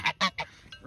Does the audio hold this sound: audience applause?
no